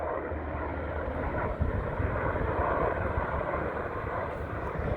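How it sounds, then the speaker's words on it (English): Helicopters flying overhead near the US–Mexico border produce a steady, continuous low rumble of rotor and engine noise throughout, moderately loud and unbroken, with no talking. "look at these helicopters constantly flying around"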